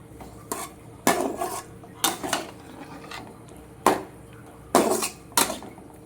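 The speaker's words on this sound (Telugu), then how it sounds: "చింతపండు రసం వేసినాక మరి ఒకసారి కలుపుకోవాలి" A pan of bendakaya (okra) curry being stirred after tamarind juice is added, with about half a dozen distinct metallic scrapes and clanks of a spoon against the pan spaced a second or so apart over a quiet background.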